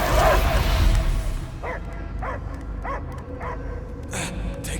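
In Marvel's Guardians of the Galaxy, a creature gives a series of about five evenly spaced barks, moderately loud, over a constant rumbling game ambience.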